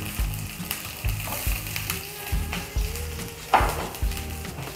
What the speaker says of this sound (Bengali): এখন পেঁয়াজ কুচিটা ঢেলে দিলাম।